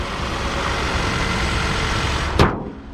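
A Toyota 2.4-liter four-cylinder engine idles steadily with an even low rumble, then a short sharp scrape or click near the end before the sound cuts off.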